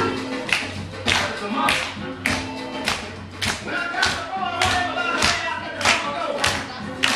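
Audience at a workshop clapping hands along to funk, sharp repeated claps in a lively irregular rhythm over music, with some talking.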